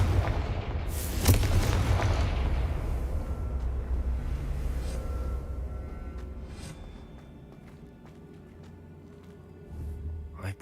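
A Confringo blasting curse goes off in Hogwarts Legacy: one sharp, loud explosive burst, then a rumbling boom that slowly fades over several seconds, followed by faint scattered game effects and a small late swell.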